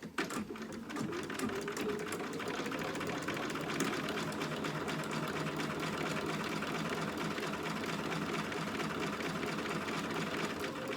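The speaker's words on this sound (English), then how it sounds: "top stitching the top of the bodice" A sewing machine runs steadily, topstitching the bodice of a dog outfit at a 3.5 stitch length, a fast continuous mechanical whir close to the mic, alone, with no voices.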